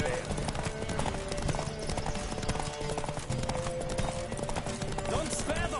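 Hooves clip-clop in a steady rapid rhythm as a horse gallops in The Witcher 3, close and continuous over game music, with a voice talking over it.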